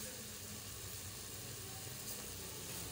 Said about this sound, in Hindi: इसको हम फिर भुनेंगे हम लोग तेल डाल के